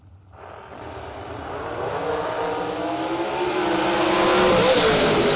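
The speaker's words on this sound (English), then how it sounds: "Adam Russell left lane dials a 450" Drag race car launching down the strip at a Mike Smith Memorial race, its engine note climbing steadily and growing louder over about five seconds with no talk over it.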